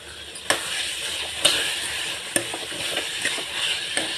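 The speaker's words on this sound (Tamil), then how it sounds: "இந்த சுண்டக்காவை போட்டு நல்லா வதக்கிறோம்" Pounded turkey berries sautéing in a pan, a steady sizzle with periodic sharp clicks and knocks of a spatula stirring, close and fairly loud with no talk.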